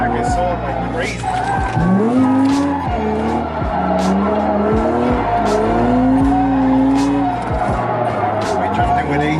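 A car fitted with an angle kit drifts with its AC running, tires squealing and skidding in long loud sweeps over a roaring engine, with people talking throughout.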